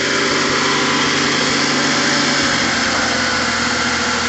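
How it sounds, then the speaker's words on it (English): A Mazda RX-7 FC3S Turbo II rotary engine idles high, a loud, steady, buzzy drone that holds constant throughout. "It's idling really high."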